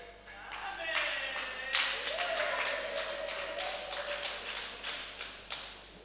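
Congregation at a Sunday church service cheering and clapping, a steady dense wash of applause with sharper claps and shouts rising throughout, continuing for several seconds.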